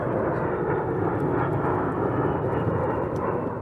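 A-10 Warthog attack plane flying, a loud continuous roaring engine rumble with a broad rushing texture, steady throughout and heard alone.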